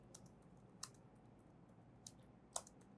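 Keys tapped on a computer keyboard while writing an SQL query: a few sparse, sharp clicks spaced irregularly over a quiet hum, faint and close, with no talking.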